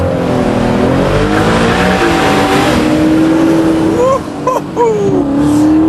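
Racing cars roar past, one driven by a highly tuned 320-horsepower straight-six, with loud, continuous engine noise that rises and falls in pitch and a brief tire squeal near the end.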